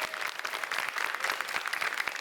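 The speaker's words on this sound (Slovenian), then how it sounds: "Velik aplavz za odlično borbo" Audience applause at a school cup-stacking competition, a dense, steady patter of many hands clapping throughout, fairly close and even in loudness, with no voices over it.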